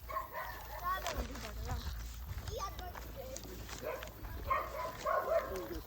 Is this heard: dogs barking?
yes